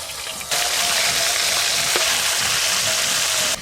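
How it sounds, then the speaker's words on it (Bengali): Fish pieces fry loudly in hot oil, starting with a quiet moment before a sudden steady, close sizzle takes over and continues without talking; the fish is silver carp. "এই যে মাছ ভাজা হচ্ছে"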